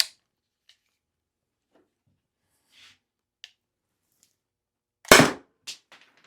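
Shots from a Byrna less-lethal launcher: one sharp, loud crack stands out among a few faint scattered pops, with short quiet gaps between them.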